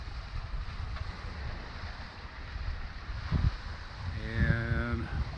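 Sailboat under a reefed mainsail and jib on Lake Michigan, with steady wind and water rushing along the hull, a brief creak near the end, and no talk.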